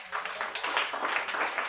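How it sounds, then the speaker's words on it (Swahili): A church congregation claps together in a brisk, continuous burst of many hands, fairly close and unbroken, with no voice on top. "Tupigie makofi"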